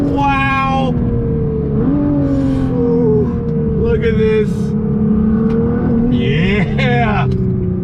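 A Nissan GT-R engine accelerates hard on throttle, its loud rising engine note climbing through the gears with brief shifts between pulls, while excited voices talk and exclaim over it.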